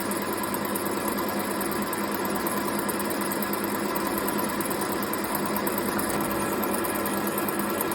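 Steady, loud machining noise from a lathe facing the end of a workpiece, a continuous motor hum with a dense whirring, grinding texture that runs unbroken throughout, no voices.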